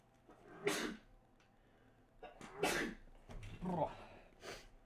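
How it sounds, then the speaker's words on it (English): Two close, forceful sneezes with breathy snorts and sniffs between them. "need to sneeze."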